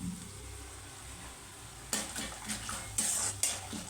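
Cumin seeds sizzle in hot oil for a tempering while lemon rice is being made, a steady soft frying hiss with a few louder stirring clinks and scrapes against the pan in the second half.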